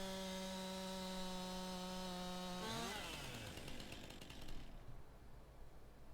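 A chainsaw cutting down a tree in the video game Wasteland: a steady engine drone for about three seconds, then a rougher, noisy rasp as the blade bites through the wood, with no talking.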